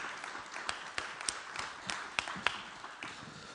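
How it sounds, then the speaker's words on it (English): A conference audience applauds briefly at a session's close, a sparse patter of individual claps with a few sharper strikes, fairly faint and without talk. "Round of applause."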